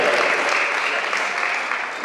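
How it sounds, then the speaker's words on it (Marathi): Audience applause at a Marathi literary conference in Washim district, 2025: dense, steady clapping from a crowd, loud and sustained throughout without a break. "आपण सर्वांनी एकदा टाळ्यांनी त्यांचं स्वागत करायचं आहे. जोरदार टाळ्या झाल्या पाहिजे."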